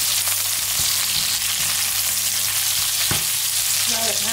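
Spice bag ingredients fry in a hot pan with a loud, steady close sizzle, punctuated by a few knocks and scrapes of a utensil, with no talking.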